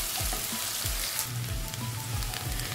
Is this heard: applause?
no